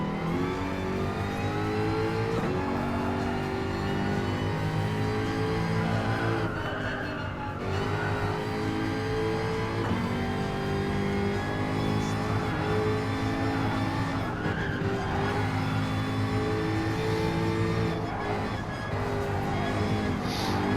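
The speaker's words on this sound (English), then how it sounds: "You can hear how I'm playing with the gas." A race car engine in the video game Gran Turismo Sport roars continuously, revving up and easing off repeatedly as the throttle is worked, with brief dips between bursts.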